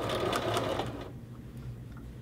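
A sewing machine stitches a hoodie neck facing seam, a close rapid mechanical whir for about a second that then drops to a quieter low hum as the stitching slows.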